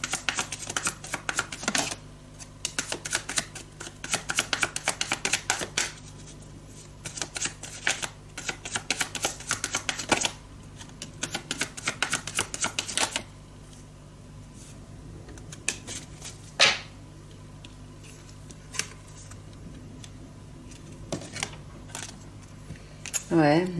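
Tarot cards being shuffled and drawn, with bursts of rapid riffling and flicking clicks separated by quieter pauses and occasional sharp snaps, close and fairly soft.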